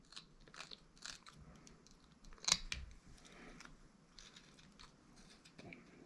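A pocket knife whittles a wooden figure with small crisp scraping cuts, soft and close, with one sharper snick midway and quiet pauses between strokes.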